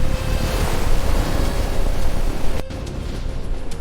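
Stormy ocean waves roar and surge continuously against a ship amid gusting wind noise, loud and close, easing slightly after a brief break near the end.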